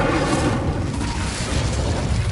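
An Incendio fire spell is cast in the video game Hogwarts Legacy, a loud, dense roaring burst of flame that fills the whole moment.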